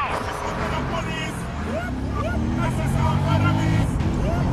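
A stolen car's engine roars and road noise builds as it drives off in Battlefield Hardline, loud and near, with several people talking over it.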